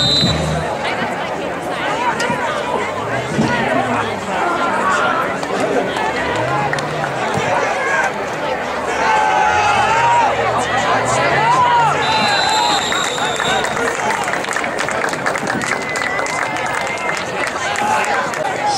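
Crowd noise at a high school varsity football game between the Al Raby Raiders and Wheaton Warriors, a steady babble of many voices with scattered shouts carrying across the stands throughout.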